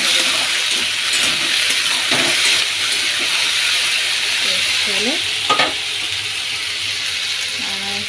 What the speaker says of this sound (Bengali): আমি আলুটা ভেজে এদিকে আলু আলু ভাজা করতে বসেছি